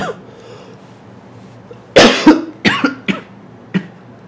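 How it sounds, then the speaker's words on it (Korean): A person coughs several times in a short burst, a sharp harsh cough followed by a few lighter ones, close and fairly loud after a quiet stretch. "요즘에 기침하면은 다 쳐다본다면서요."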